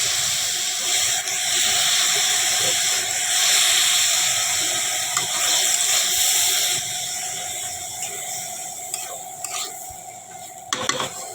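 Water splashed a little at a time into a hot pan of spicy semolina mixture gives a sustained steamy hiss and sizzle that gradually fades, followed by a few clinks of a utensil against the pan.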